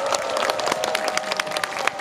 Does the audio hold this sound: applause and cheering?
yes